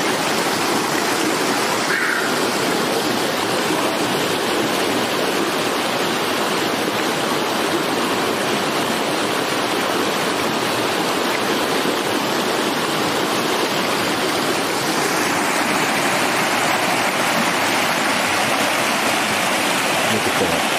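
Cold creek water rushes steadily along on a trip near Sedona, a loud, continuous broadband flow that fills the scene throughout, with an occasional voice underneath.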